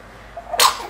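A single sharp sneeze bursts out near the end of a quiet moment, close and loud.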